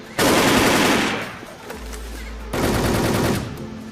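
Automatic gunfire in the online shooter Wolfteam, two loud sustained bursts of rapid shots separated by a brief lull with a low rumble.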